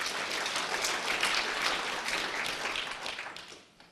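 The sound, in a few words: audience applause at conference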